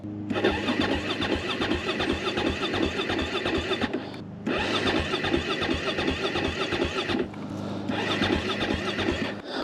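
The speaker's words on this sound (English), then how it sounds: "bike didn't want to start. Perfect example of why you want a kickstart on your bike" A KTM EXC 530 dual-sport dirt bike's electric starter cranks in three long, loud bursts with brief pauses, the engine never catching; no voices.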